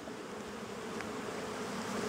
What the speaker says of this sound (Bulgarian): Пчелите носят усилено.